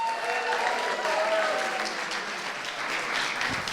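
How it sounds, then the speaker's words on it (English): An audience applauds co-host Elaine Tyler at a sales awards evening, a dense, steady burst of clapping throughout, fairly close and loud. "can I have a big round of applause for Elaine Tyler"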